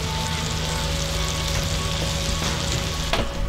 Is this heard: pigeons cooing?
no